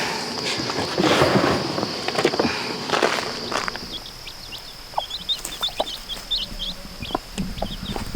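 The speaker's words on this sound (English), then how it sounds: "So 2 of our hens, Karen and Donna, together they have 9 chick" Soft clucking from hens mixes with high chick peeps and shuffling steps on ground, a steady faint hum running underneath.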